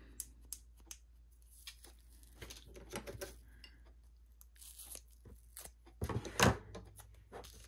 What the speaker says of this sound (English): Now we put a little bit of tape here.